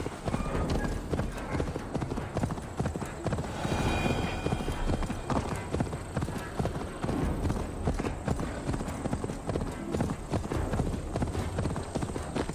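Horse hooves clip-clop steadily in Assassin's Creed Valhalla as the rider travels. The trotting rhythm is loud and continuous, with a brief whinny, and a voice talks over part of it.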